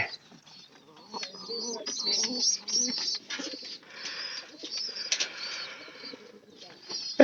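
Domestic pigeons coo and rustle while feeding their chicks, a near, busy mix of soft calls, wing shuffles and brief clicks that keeps going throughout.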